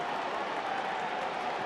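A Kansas City baseball crowd roars in a steady, dense wash of cheering and noise as the benches clear at a stadium.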